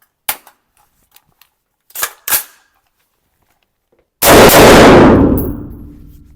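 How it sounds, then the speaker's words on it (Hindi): A TISAS ZPT 556 rifle firing Turkish-made ZSR low-grain rounds at a shooting range gives a few sharp metallic clacks, then one loud close blast that rings out and decays over about two seconds. "तो अभी ये इस पे फायर करते हैं सेकंड मोड में।"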